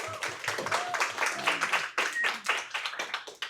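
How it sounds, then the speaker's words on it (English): A small crowd claps steadily at a live event in the Caffeine Library coffee shop, dense close applause running throughout with scattered voices and whoops mixed in. "Big round of applause to Caffeine Library for hooking it up."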